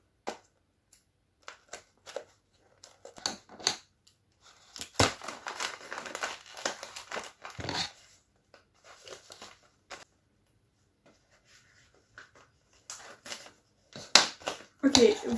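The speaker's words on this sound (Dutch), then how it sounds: "Ik vond de plakband niet, dus ik ga gewoon deze oranje tape gebruiken." Intermittent orange packing tape sounds, quick rips and crinkly pulls as it is stuck onto a wrapped package, come in short bursts with quiet gaps, close by, denser in the middle and at the end.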